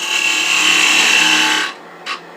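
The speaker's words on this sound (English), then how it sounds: "And now let's part that down. I use a 1/8 inch parting tool." A 1/8 inch parting tool cuts into a spinning wooden gnome ornament on a lathe, giving a steady, loud, hissing scrape for under two seconds that stops abruptly, followed by a brief faint tap.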